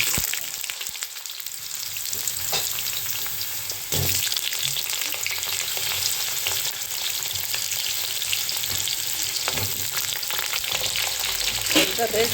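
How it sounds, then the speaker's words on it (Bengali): Potatoes fry in a pan of hot oil with black cumin and dried red chillies, giving a steady loud sizzle throughout with occasional stirring scrapes. "তাই আলুটা একটু ভালো করে ভেজে নিতে হবে"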